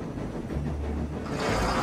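Trains running on a railroad, a low steady rumble with a rising, brighter rolling clatter toward the end, heard alone without speech.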